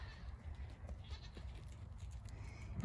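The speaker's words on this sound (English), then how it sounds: "That is one big billy goat" A large billy goat bleats faintly a few times over a low, steady rumble, with no talking.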